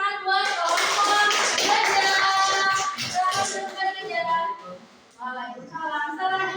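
Students in a classroom clap for their classmates after a group presentation, a loud burst of hands mixed with children's voices calling out and chattering over it.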